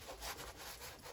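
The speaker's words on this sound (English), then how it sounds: "I'm just going to use some soap and water and a sponge to clean off some of the residue around the fill hole there." Sponge with soap and water scrubbing limescale residue around the fill hole of a Bosch Classixx 6 1400 washing machine; quiet, rhythmic back-and-forth rubbing strokes, close up and alone.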